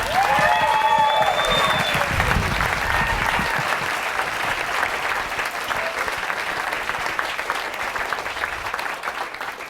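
Applause breaks out from an audience at a stage hypnosis show, full and sustained clapping that stays strong for several seconds and eases slightly toward the end, with a brief tonal sound near the start.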